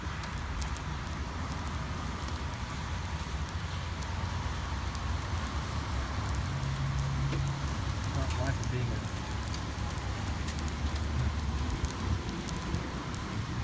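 Hailstones pelting a car during a severe storm in the Dallas Fort Worth area, Texas, a constant dense patter on the vehicle under heavy rain noise, with someone talking over it.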